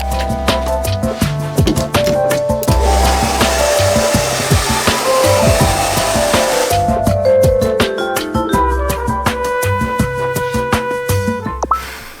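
A hair dryer blows with a steady whooshing roar, loud and close, its tone shifting as it cuts out and restarts partway through.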